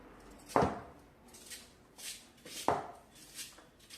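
Two distinct knife chops on a board while cutting harvested greens, about two seconds apart, close by, with quiet shuffling and small clinks in between.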